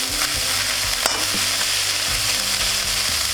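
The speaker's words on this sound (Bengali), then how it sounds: "মোচাটা পুরো ভাজা ভাজা হয়ে আসলে আমরা নামিয়ে দেবো।" Banana flower chorchori curry frying in a pan, a strong steady sizzle with scraping stir strokes and occasional knocks of a spatula against the pan, close up.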